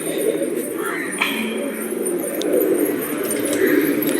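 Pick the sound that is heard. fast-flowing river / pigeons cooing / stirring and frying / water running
pigeons cooing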